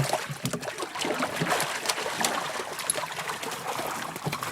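Water splashing and churning steadily nearby in British Columbia, a dense, continuous rush with irregular slaps and no voices.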